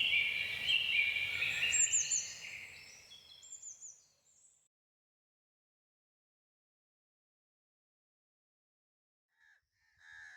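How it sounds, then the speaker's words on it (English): Crows cawing loudly in a forest, a cluster of harsh calls in the first few seconds that fade out, then silence and a couple of faint distant caws at the end. "These crows. Why are they so loud today?"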